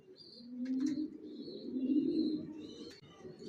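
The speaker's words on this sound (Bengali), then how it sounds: "এখানে 1 জোড়া অ্যাডাল্ট কবুতর দেখাচ্ছি" A pair of adult racing pigeons cooing nearby, two soft, low, throaty rolling coos in quick succession, with faint higher chirps in the background.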